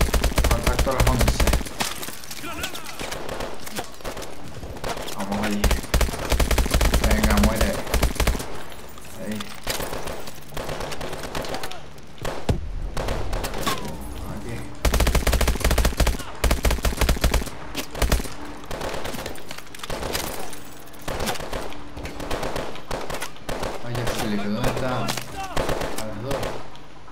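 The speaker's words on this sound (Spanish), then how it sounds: "Está disparando desde el suelo" Dense automatic gunfire from Call of Duty: Advanced Warfare, loud sustained bursts and rattling volleys with brief pauses over nearly half a minute, with voices talking intermittently underneath.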